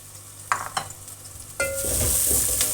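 Onions frying in a pan for aloo matar mung'ray sabzi, a steady close sizzle with a few sharp clinks and scraping stirs, the hiss swelling louder in the second half.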